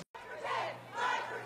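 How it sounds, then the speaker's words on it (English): A huge crowd marching through Tipperary town, a dense roar of many voices chanting and shouting, loud and continuous after a brief cut. "A huge crowd of people"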